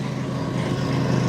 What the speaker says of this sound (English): sorry for the lawnmower in the background